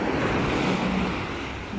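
Rough surf breaks along the Southern Leyte shore at Macrohon, a steady broadband wash of waves with wind buffeting the microphone, loud and continuous with no voices.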